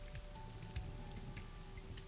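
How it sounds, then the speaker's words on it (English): Pouring rain in the video game AI: The Somnium Files, a faint, steady patter of drops on surfaces with soft irregular splashes, continuous throughout and with no talk. "she's standing in the pouring rain with her umbrella up"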